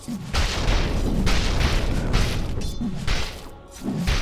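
A Dota 2 tower under attack takes heavy, crashing hits, a dense run of loud booming impacts that carries on almost without a break.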